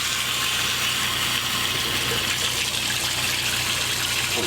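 Newly installed kitchen sink faucet in a 2015 Thor Vegas RV running hard, a steady rushing gush of water splashing into the basin, close and continuous with no voices.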